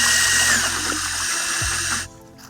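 Water and fertilizer swish and churn inside a backpack sprayer tank, a steady loud sloshing rush that cuts off abruptly near the end.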